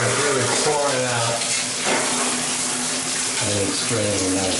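A shower pours steadily in a bathroom, a dense broadband water hiss with a faint low hum running underneath and no talk.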